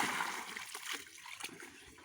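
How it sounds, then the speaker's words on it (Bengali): Water splashes and sloshes as a mother bathes a child, pouring from a woven basket; a steady wet wash of splatter runs throughout with soft irregular bursts, close by and moderately loud. "মা ডালা দিয়ে স্নান করে দিচ্ছে"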